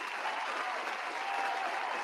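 Continuous applause from a crowd, a dense, even wash of clapping throughout.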